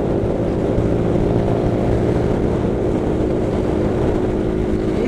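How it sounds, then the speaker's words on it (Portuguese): A motorcycle cruising in fifth gear on a windy downhill road, with a steady droning engine hum and rushing wind roar that hold constant and close throughout, with no voices. "Eu botei quinta agora na moto, porque a moto tá começando a desenvolver."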